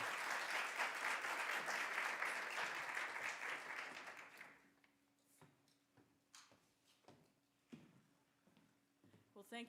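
Audience applause welcoming a lecture speaker, a steady crowd of clapping hands that fades after a few seconds into scattered claps and small room noises.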